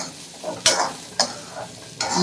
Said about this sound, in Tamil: வெங்காய குழம்புக்கு வெங்காயத்தை வதக்கித்தான் போடணும்.